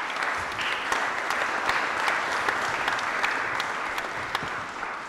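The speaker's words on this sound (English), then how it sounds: "a round of applause, if I may, to welcome the panel onto the stage" Audience applause welcoming a panel onto the stage at a business forum, steady dense clapping from a large crowd sustained throughout at an even level.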